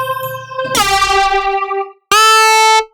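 Native Instruments Razor synth bass patch with an unconventional reverb effect: a bright, buzzy harmonic tone that sustains and smears, cuts to silence, then returns as a second loud held note before stopping abruptly.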